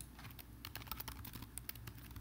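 Quiet fast typing on a computer keyboard, a dense run of light clicking keystrokes heard up close and alone.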